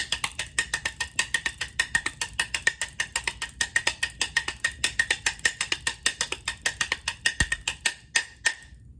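Crisp, sharp rim shots struck in a steady, rapid rhythm on a small tamborim practice pad, dry and close, with a brief pause near the end.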